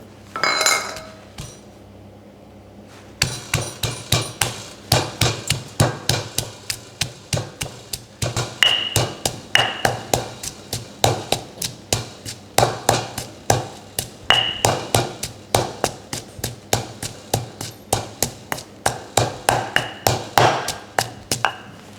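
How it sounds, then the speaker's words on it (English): Chili and garlic being ground for a summer roll dipping sauce: a quiet opening gives way to steady, rapid pounding strikes, close and loud, repeating evenly for nearly twenty seconds. "We grind chili and garlic first."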